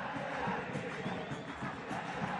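Crowd noise at a football match, a broad roar of applause and cheering from the stands, steady and moderately loud with no clear talk on top.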